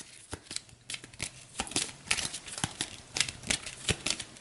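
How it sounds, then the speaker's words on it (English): Dune Imperium board game cards are shuffled up close, giving a run of quick, crisp riffling bursts and soft slaps in an uneven rhythm. "so I'll go ahead and shuffle all of this up"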